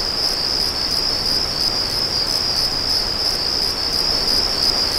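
Loud, continuous cricket chirping in the video game Deus Ex, in a steady pulsing rhythm, high-pitched and close, over a soft background hiss.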